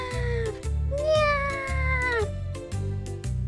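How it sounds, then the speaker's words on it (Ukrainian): A cat meows loudly in long drawn-out cries over a rhythmic musical backing. "Ти так голосно нявчиш."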